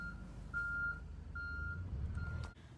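A lorry reverses with a series of four evenly spaced high electronic beeps, fairly faint and distant over a low engine hum.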